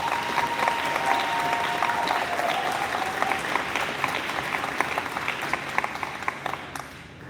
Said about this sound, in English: I have to give a round of applause to the families really quickly.